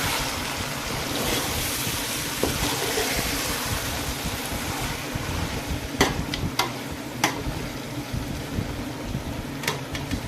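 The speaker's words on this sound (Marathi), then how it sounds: "आपलं चिकन हे चांगलं परतून होत आलेलं आहे." Chicken pieces sautéing in oil in a pot for chicken dum biryani, a steady low frying rumble with a few sharp spoon clicks and scrapes against the pot near the end.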